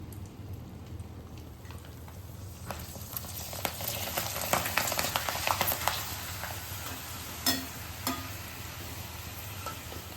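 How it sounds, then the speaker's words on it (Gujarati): Bhungla papad tubes frying in hot oil give a continuous crackling sizzle with scattered sharp pops, close and steady throughout, with no talking. "આપણે આ જ રીતે બધા જ ભૂંગળાને તળી તળી લઈશું."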